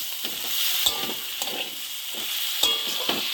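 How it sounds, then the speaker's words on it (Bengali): Fried potatoes and pointed gourd are stirred in a sizzling pan, with a continuous fry hiss and several distinct spatula scrapes and clanks against the metal. "একটুখানি নেড়ে নেব"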